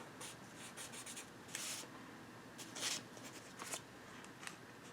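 Pencil or crayon drawing apples on paper, quiet scratchy strokes in short bursts with brief pauses, close and soft with no voices.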